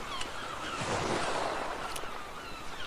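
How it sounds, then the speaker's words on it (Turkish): Sea waves wash onto a beach in a soft, steady roar, one swell rising and receding over a few seconds with a wind-like hiss. "Denizin dalgalarının sesini duyuyorsun."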